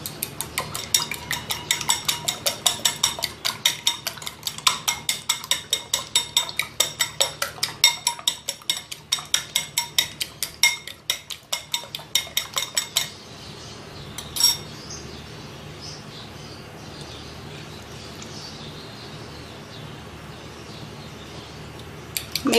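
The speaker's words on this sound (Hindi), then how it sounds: "अब सबसे पहले एग्स को बीट कर लेते हैं।" Eggs beaten briskly in a bowl with a fork or whisk for an omelette, a rapid steady clatter of metal against the bowl for about thirteen seconds, then stopping, with only quiet kitchen background and a faint clink afterwards.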